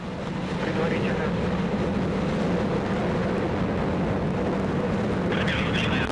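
Soyuz FG carrier rocket lifting off with Soyuz MS-02 from Site 31/6 at Baikonur Cosmodrome, Kazakhstan: a sustained, deep broadband roar that holds steady for several seconds.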